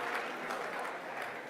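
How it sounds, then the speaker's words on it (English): Audience applause at a leadership conference, a dense steady wash of clapping filling the short stretch at moderate loudness without a break. "please give a big round of applause to each other"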